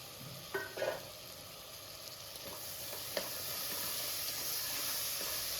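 Soaked peanuts, chana dal and toor dal tipped into sautéed vegetables in a cooker for Surti khichdi give a few soft clattering drops, then a steady hissing sizzle that grows slightly louder, with no talking.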